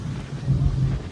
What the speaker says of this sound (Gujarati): ખૂબ પવન છે ખૂબ પવન